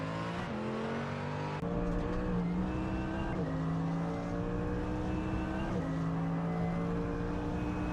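Video game GT3 race cars exiting the pits, engines revving loudly and shifting up through gears repeatedly, close and continuous with no talk.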